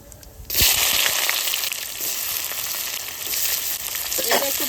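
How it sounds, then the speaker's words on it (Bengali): Onion dropped into hot oil already frying cumin, bay leaves and dried chilies bursts into a loud, steady sizzle that surges after a brief quiet start and holds close and strong throughout. "তা ফোড়নে আমার জিরে তেজপাতা চলে গেছে শুকনো লঙ্কা এবার পেঁয়াজটা দিয়ে দেবো"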